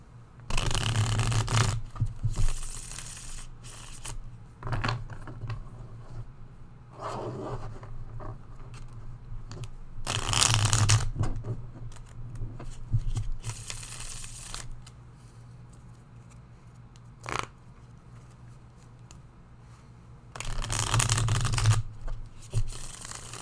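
Tarot cards being shuffled by hand in repeated short bursts of crisp riffling and sliding, close and clear, with quiet pauses between each round of shuffling.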